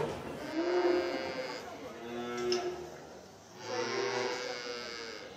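Several cows moo in long, drawn-out calls inside a barn, some near and some farther back, overlapping one another with brief pauses between.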